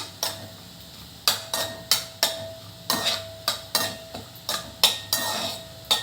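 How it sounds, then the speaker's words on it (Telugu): Spices and a handful of cashews lightly frying in a pan for rajma masala curry, with a steady soft sizzle broken by repeated sharp clinks and scrapes of a spoon stirring against the metal. "జస్ట్ లైట్గా ఫ్రై అయితే చాలు"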